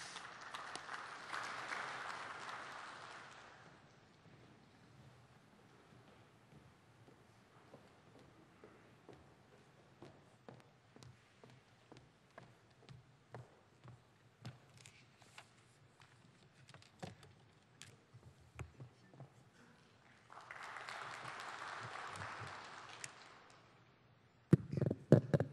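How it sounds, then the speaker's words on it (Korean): Audience applause at a Korean Ministry of Environment ceremony rises in two full bursts, one at the start and one near the end, separated by a quiet stretch of faint scattered claps and shuffling. "큰 박수 부탁드리겠습니다."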